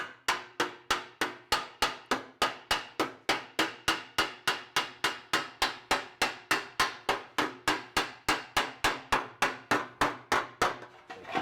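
Rapid, steady hammer blows ring on a sheet metal body panel of a 1938 Cadillac, dozens of sharp metallic strikes in an even rhythm, close and loud with no talking.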